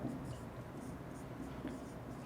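Faint scratchy strokes of writing numbers on a board in a classroom math lesson, steady and soft over a low room hum.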